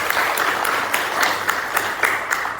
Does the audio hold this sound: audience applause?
yes